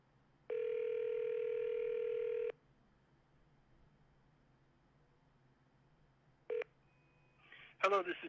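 A telephone call ringing out while waiting to reach voicemail: one long steady ring tone lasting about two seconds, a quiet pause, then a short beep before a voice starts speaking.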